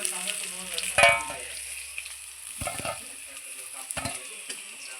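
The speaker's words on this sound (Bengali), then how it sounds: "সামান্য একটু হলুদের গুঁড়ো লবণ আর হলুদ দিয়ে কাঁচা কলাটা আমি লাল লাল করে ভেজে নেব" Raw banana pieces sizzle in hot oil with turmeric and salt, a close steady frying hiss with a sharp burst of crackle early on and utensil scrapes from stirring.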